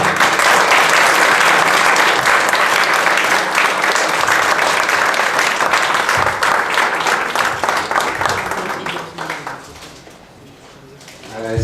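An audience claps loudly and continuously after a lecture on Mexican municipal government, the dense applause fading away over the last seconds.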